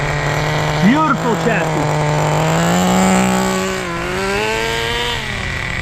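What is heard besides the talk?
HPI Nitro RS4 RC car nitro engine running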